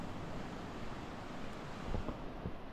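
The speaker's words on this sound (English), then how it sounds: "The waves are crumbling in" Ocean waves break on Makronissos Beach in Cyprus on a December afternoon, making a continuous broadband wash of surf mixed with wind rumble on the microphone, with slightly stronger surges near the end.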